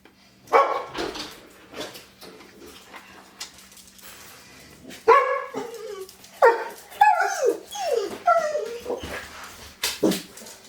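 Dogs bark, yip and whimper in irregular bursts at close to mid distance, with quieter gaps between the outbursts.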